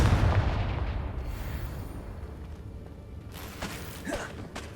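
Confringo blasting spells explode in Hogwarts Legacy, a booming blast at the start that fades out, followed by a few fainter cracks and whooshes toward the end.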